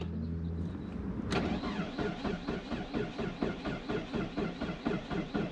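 A starter whirs briefly, then the cold LPG-fuelled engine of a 2004 Saab 9-5 sputters with a rough, uneven pulsing rhythm, struggling to catch and stalling, close by and fairly quiet.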